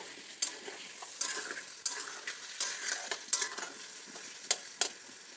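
Ground spice paste sizzling and frying in a pan for a vegetarian aloo dum, with a utensil stirring and scraping through it in repeated strokes over a steady close hiss; no talking.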